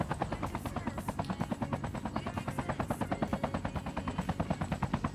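A helicopter in the Call of Duty Mobile battle royale thuds overhead with a fast, steady rotor chop, loud and close throughout with no talking.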